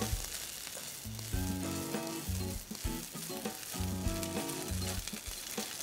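Chopped boiled potatoes fry in a pan with a steady, close sizzle and a few stirring knocks, fairly quiet overall and with no talking.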